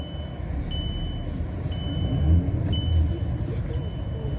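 A car driving on a snowy road in Italy, its low engine and tyre rumble steady and close throughout, swelling slightly midway, with faint high beeps in the background.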